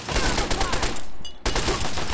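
Rapid gunfire in the video game Fallout 3: a dense burst of close, loud repeated shots, a brief break, then the firing resumes.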